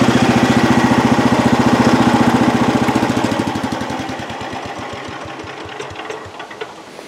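A loud tractor engine chugs steadily with a rapid rhythmic knock, close by, gradually slowing and softening toward the end.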